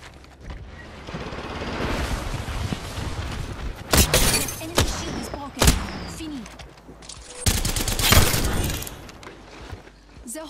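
Apex Legends gameplay with a grenade toss: sharp explosive bangs and shattering gunshot cracks burst out at intervals over a busy background of game sound and effects.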